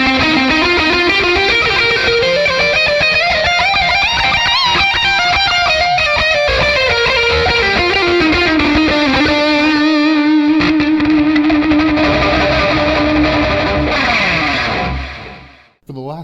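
Electric guitar solo through Scattered Abroad Panda and Fox pedals with the gain raised, a loud, gritty lead line of bending, sustained notes over a dense distorted backing, ending in a long held note that cuts off abruptly.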